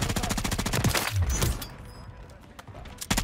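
Rapid gunfire in Warzone 3, with a close automatic weapon firing a loud sustained burst and a short break in the middle, followed by quieter scattered sounds, voices heard in the background.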